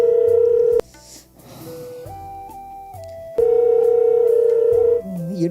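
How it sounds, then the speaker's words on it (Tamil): A phone's ringback tone sounds during an unanswered call: two long steady electronic tones, separated by a quieter stretch of background sound. "ரிங்கு போகுது"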